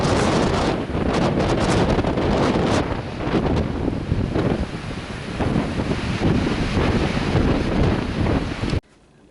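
Strong wind roars across the microphone on a socked-in day outdoors, a loud, continuous blustery rush with gusting surges and buffeting, alone with no voices, cutting off abruptly just before the end.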